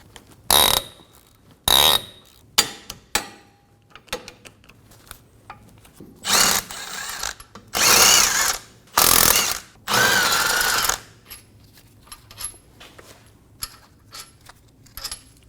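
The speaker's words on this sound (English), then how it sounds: "we're going to loosen and remove our 4 wheel bearing bolts" Impact wrench bursts loosening four wheel bearing bolts on a 2014-2018 Subaru Forester rear hub, several loud whirring runs of a second or so each, separated by quieter clicks and tool handling.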